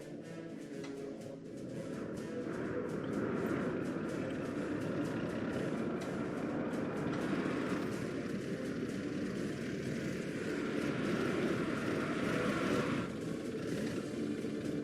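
Trains run through a city-building game set in a Soviet republic, Workers and Resources, making a steady, dense mechanical rumble that holds at an even loudness throughout, with no voices.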